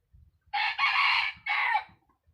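A large rooster crows nearby: a loud, hoarse cock-a-doodle-doo in two strong bursts over faint low background rumble.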